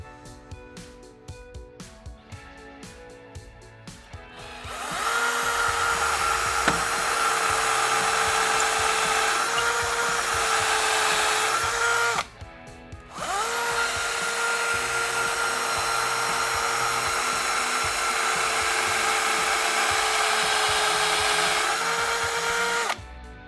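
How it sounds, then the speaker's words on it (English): A power drill bores into a wall for fitting a roman blind, whining loud and steady in two long bursts with a short pause between, after some quieter handling clicks at the start. "then we're ready to drill the final 2 holes."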